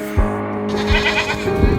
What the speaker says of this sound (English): The goats are taking over, roaming the deserted streets.